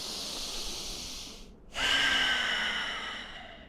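A deep breath during a breathwork exercise: a long, close, airy exhale, a brief pause, then a strong rushing inhale that slowly fades, with no voice over it.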